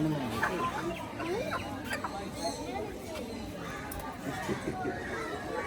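Many chickens cluck and chatter continuously nearby, with people talking over the flock.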